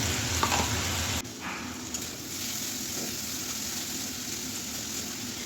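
Spice paste frying in a pan for a fish curry, a steady hiss of sizzling oil that drops slightly after a brief stir, continuous and close with no talking.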